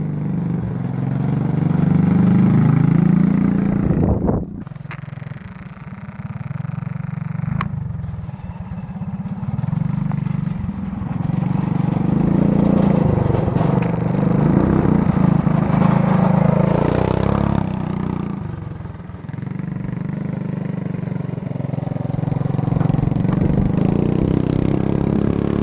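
Black Widow go-kart on new tires driving a bumpy dirt bike track, a small engine droning and revving near then farther off, with clattering bumps and a brief dip in sound partway through.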